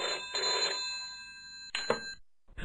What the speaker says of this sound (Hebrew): מחכה לך שיחת טלפון לאסי.